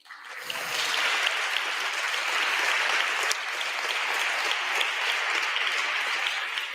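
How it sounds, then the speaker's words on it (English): A round of applause at an award ceremony, dense steady clapping from an audience that swells quickly and holds at an even level for several seconds. "That would be amazing when you have a round of applause for yourselves."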